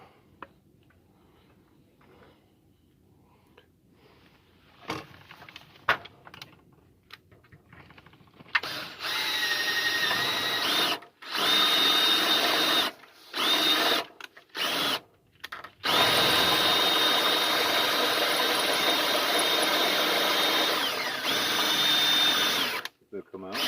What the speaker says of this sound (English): So these rivets here, we're going to drill out.